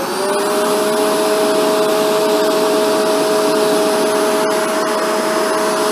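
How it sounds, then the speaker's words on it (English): A Shark Rotator NV752 upright vacuum cleaner runs steadily with a loud, constant motor whine and airflow hiss, unbroken and close, with no talking. "So now I'll turn the vacuum on."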